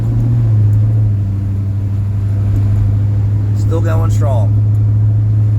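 A car rolls along a road beside Interstate 95 in snowy Northeast Philadelphia, its steady low rumble of engine and road noise continuous throughout while a person speaks briefly over it.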